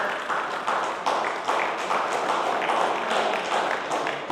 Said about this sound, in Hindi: जोरदार तालियों से स्वागत कीजिए बच्चे का।